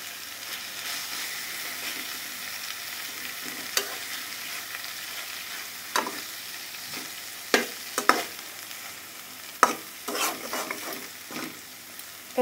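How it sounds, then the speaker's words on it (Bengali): Rohu fish pieces fry in masala over low heat, a steady soft sizzle broken by occasional scrapes and clinks of a spatula stirring in the pan, close and alone without talk. "আস্তে আস্তে এবং লো চুলার আঁচটা দিয়ে লো পরিমাণে দিয়ে ভেজে নিতে হবে, যাতে মশলাটা পুড়ে না যায়।"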